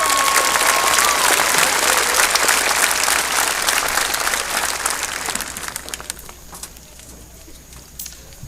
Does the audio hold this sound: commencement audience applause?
yes